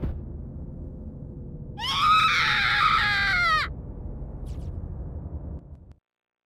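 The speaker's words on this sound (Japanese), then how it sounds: "今の中島さんの声、それも悲鳴。" A shrill female scream from the PSP horror game Corpse Party rises sharply over a low droning background, lasting under two seconds before cutting off, with the eerie ambience continuing alone afterward.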